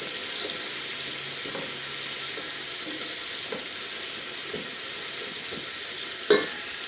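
Chopped onion and chili sizzle steadily in a hot pan for vegetable khichuri, with light scraping knocks from the stirring spoon and a steady hiss beneath.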